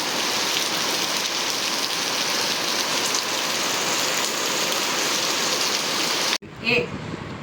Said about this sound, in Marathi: आम्ही निघालोय आणि खूप पाऊस आलाय खूप म्हणजे खूप